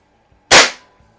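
A single loud, sharp crack from an unsuppressed QB Chief air rifle, close by, decaying quickly in a quiet setting.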